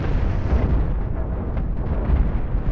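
Ion beams firing and striking ships in a Cosmoteer space fleet battle, a dense rumbling barrage of booming blasts and crackling impacts, loud and continuous without talk.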